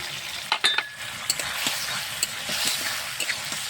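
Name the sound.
chillies and chopped tomato frying in spice masala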